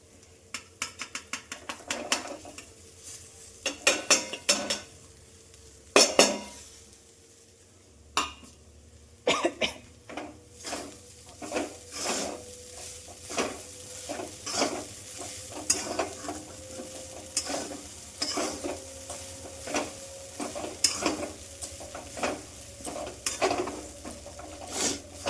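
Potatoes and onions, fried in a little oil, are stirred in an aluminium pan. A soft sizzle runs under irregular scraping and clanking strokes of the spoon against the pan, some of them sharp and close.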